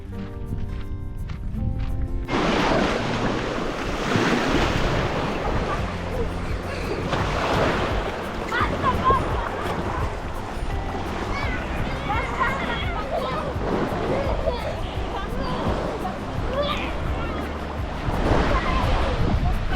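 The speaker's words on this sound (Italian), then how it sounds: "la spiaggia è pulitissima e il mare è una piscina" Surf rolls onto the quartz sand beach of Is Arutas in Sardinia in a continuous wash, with wind buffeting the microphone and the babble of a crowded beach mixed underneath throughout.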